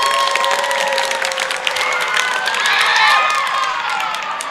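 Crowd applauding and cheering for the first candidate at a student council election event, sustained clapping mixed with scattered shouts and whistles throughout.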